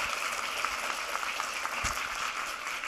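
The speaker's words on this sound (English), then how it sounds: "let's give her another round of applause" A seminar audience gives a round of applause to a visiting biology professor: continuous, moderately loud clapping from a room of listeners, with a few sharper individual claps standing out.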